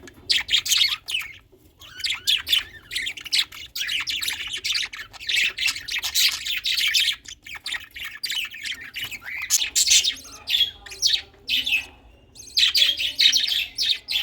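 A pair of lovebirds squawks and chirps almost without pause beside their newly hatched chick, the shrill calls close, loud and overlapping in quick rapid bursts.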